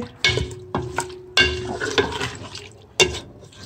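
A spoon scrapes and knocks against a pot in several separate strokes while lentils fry and sizzle softly underneath, close and alone without any talking.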